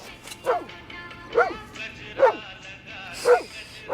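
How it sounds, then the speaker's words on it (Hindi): Moti the dog gives five sharp, evenly spaced barks, each about a second apart, fairly close and clear over quiet background noise. "अरे आज मोती भौंक रहा"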